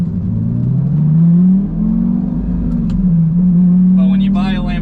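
A Lamborghini Gallardo engine revs up and holds a loud, droning tone that rises, dips and rises again over several seconds, with a voice speaking over it near the end.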